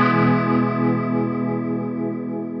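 A Hardwire TR-7 tremolo/rotary pedal in rotary mode ramps its simulated Leslie speaker up to a faster speed on a sustained held chord, the swirling warble quickening over a few seconds at steady loudness with no talking.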